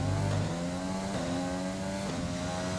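A failing, struggling Formula 1 car engine in the F1 2020 racing game drones steadily, with its pitch climbing and dropping through repeated gear changes.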